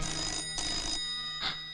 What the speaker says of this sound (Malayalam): ആരേലോ ഫോൺ എടുക്ക്.